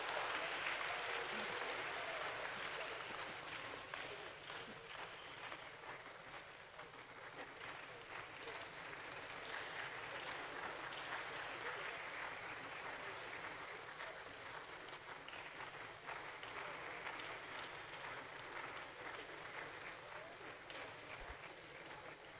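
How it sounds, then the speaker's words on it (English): Lecture audience at an academic talk on sustainable housing through public-private partnerships gives the lecturer another round of applause, a dense, continuous patter of many hands heard from a distance and fairly soft, with some voices mixed in. "Another round of applause for our lecturer."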